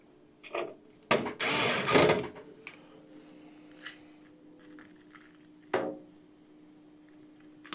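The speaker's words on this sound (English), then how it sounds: "now you're going to put the first screw down for the motherboard" A small motherboard screw driven down by hand with a regular screwdriver during a PC build: a burst of ratcheting and scraping metal near the start, then a few isolated clicks and taps in a quiet room.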